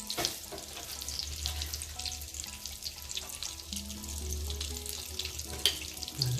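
Donuts fry in a bath of hot oil with a close, steady sizzle and crackle, with occasional small pops and faint stirring or clinking and no voices.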